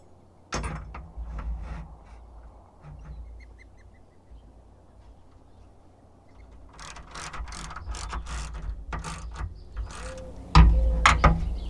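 A ratchet tightens 10mm bolts on a roof rack awning mount on a Jeep Wrangler JKU. Bursts of close, rapid clicking come in several separate runs with pauses between them, plus a few louder knocks and handling clatter.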